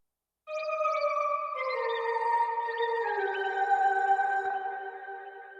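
An experimental lead sample for a hip-hop beat, blending a synth lead with bird-like chirps and flute tones, plays as sustained layered melodic lines with chirping flourishes, steady and moderately loud throughout.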